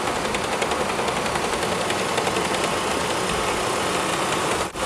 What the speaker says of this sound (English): the customer complaint is that they have a vibration and a clicking noise coming from under the hood